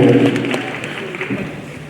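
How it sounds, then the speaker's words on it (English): An audience at a university entrepreneurship fair and exhibition claps in a short, dense burst of applause that starts loud and tapers slightly over under two seconds, with some voices mixed in. "Round of applause for them again."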